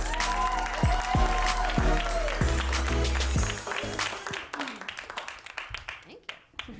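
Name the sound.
audience applause for comedian Casey Larwood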